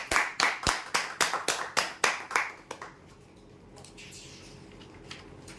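Loud, close clapping from a small gathering at a prize draw, a dozen sharp claps in quick rhythm for about three seconds, then fading to quiet room tone.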